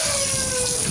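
Running water pours steadily over a cut-open chicken gizzard being washed out during chicken butchery, a brief, loud, continuous gush with no talk.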